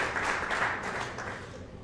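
Steady, dense clapping from a crowd at a West Genesee ice hockey game in upstate New York, a continuous wash of hands that holds fairly level and fades slightly toward the end.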